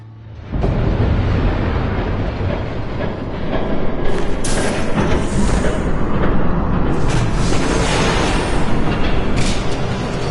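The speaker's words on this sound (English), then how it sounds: "There's a train coming." A train approaching in a Batman animated episode: a sudden loud rumbling roar swells in and keeps building, heavy and close, with rattling and clattering on top, no speech.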